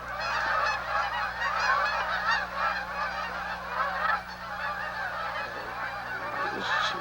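A huge flock of geese passes overhead, a dense, continuous chorus of overlapping honks that stays loud and busy for the whole stretch, with no other sound breaking through.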